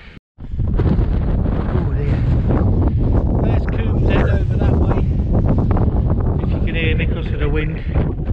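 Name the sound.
wind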